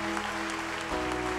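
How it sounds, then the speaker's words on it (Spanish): A church congregation applauds during a Spanish-language service, the clapping swelling under a sustained organ-like tone that shifts pitch partway through. "denle un aplauso al Señor"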